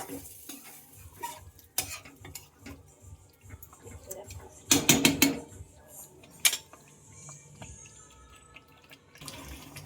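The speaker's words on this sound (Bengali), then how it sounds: "খুব ভালোভাবে মিশিয়ে নিতে হবে" Mutton mixture being stirred by hand in a pan, with scraping and clinking of a utensil against metal that builds to a loud cluster of strokes midway, over a faint kitchen background.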